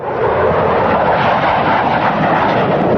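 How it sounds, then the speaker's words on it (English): American military aircraft over Bosnia fly past in a loud, steady roar that fills the whole stretch without a break, with no voices. "As American aircraft pounded the Bosnian Serbs"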